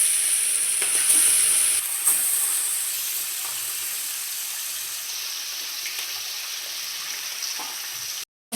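Steady hiss and crackle of food frying in hot mustard oil with spices in a home kitchen, a continuous loud sizzle with a brief clatter before an abrupt cutoff.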